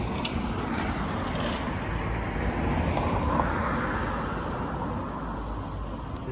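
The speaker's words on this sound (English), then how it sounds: "Oh, God, the amount of traffic." Heavy road traffic passes along a street in Knotty Ash, a loud continuous roar of vehicles swelling slightly midway as one passes close, with no talking.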